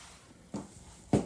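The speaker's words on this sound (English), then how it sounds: "I'm gonna walk across the living room" Two soft footsteps fall about half a second apart in a pre-war East Village apartment living room, the second slightly heavier, over a quiet room background.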